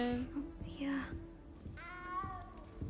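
A cat meows in the video game Hogwarts Legacy, with a drawn-out, wavering call near the end, mixed with other game sounds while a person talks over it.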